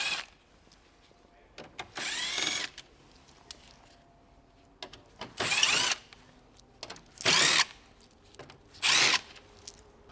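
Power drill with a T15 Torx bit backing out screws on a 2024 Chevrolet Trax during a base plate install, five short whirring bursts of one to two seconds each, separated by quiet pauses and small handling clicks.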